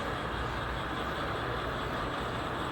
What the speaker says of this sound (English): You can hear the locomotive engines running.